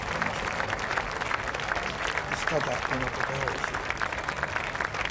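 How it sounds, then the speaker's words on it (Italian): Studio audience applauding on an Italian TV cooking show, a steady dense clatter of clapping throughout with a voice speaking over it. "fate un applauso"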